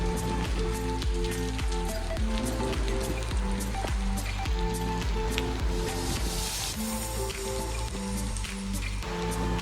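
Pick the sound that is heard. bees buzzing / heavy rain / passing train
heavy rain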